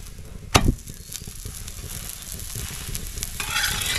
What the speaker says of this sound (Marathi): दोन्ही बाजू आपल्याला अशा खमंग अशा भाजून घ्यायच्या आहेत